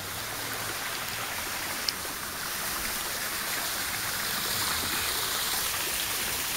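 Water from a cleared, unblocked stream runs steadily near a waterfall, a continuous broadband rush with even loudness throughout and no voices.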